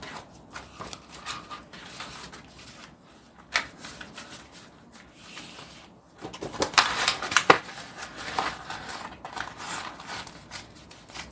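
A sewing machine stitches a fabric notebook holder at stitch length 5, giving a close, uneven mechanical whirring and clicking that grows busier and louder in the second half.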